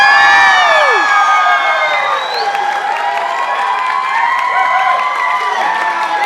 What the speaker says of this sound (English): cheer if you support the fastest, coolest thing alive